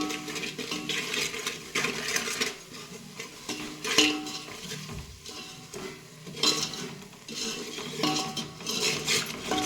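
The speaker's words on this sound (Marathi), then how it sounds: "आणि या मसाल्यांना चांगलं तळून घ्यायचं आहे तेलामध्ये।" Spices frying in oil for a chicken masala, a steady sizzle under repeated scraping and clinking as a utensil stirs the pan, with louder bursts of stirring now and then, close by and without talk.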